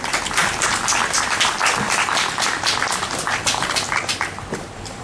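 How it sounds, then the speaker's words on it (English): An audience at a speaking event gives a loud, sustained round of applause, dense overlapping claps that hold steady for about five seconds. "So please give a round of applause to Johanna."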